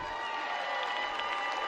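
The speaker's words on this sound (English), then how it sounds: "On les applaudit." Spectators at a speed climbing World Cup final in Villars cheer and clap, a brief, continuous wash of crowd noise heard from a distance.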